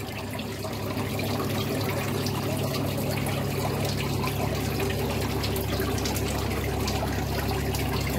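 Water pours steadily out of a plastic bag holding fish, a continuous close trickle and splash that lasts about eight seconds with no one speaking.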